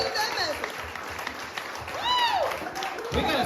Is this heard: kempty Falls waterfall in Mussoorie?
no